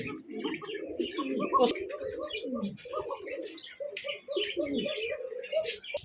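Soft, low pigeon coos repeat throughout at a pigeon farm, with a few higher chirps and tweets scattered over them; nearby, fairly steady.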